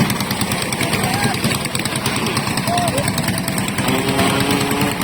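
Engine running at a motorsport championship round in Pinamalayan, Oriental Mindoro, a steady buzzing drone held throughout under continuous loud talk.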